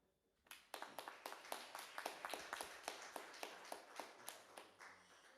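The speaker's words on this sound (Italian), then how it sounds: "Un applauso." An audience claps at a live event, a steady run of distinct, fairly quiet hand claps that starts abruptly and goes on for several seconds without talk.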